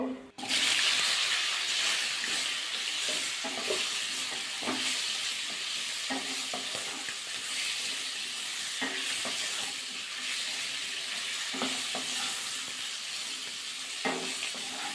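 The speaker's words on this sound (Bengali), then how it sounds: "সিমটা হালকা একটু ভাজা করে নিতে হবে" Broad beans fry in a pan with whole cumin, giving a loud, continuous sizzle close by, while a utensil scrapes and stirs them in irregular knocks throughout.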